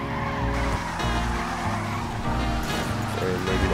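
A car in the video game GTA 5 makes a long, fast drift under a building, with engine roar and repeated tire squeals that rise and fall across the clip, loud and close.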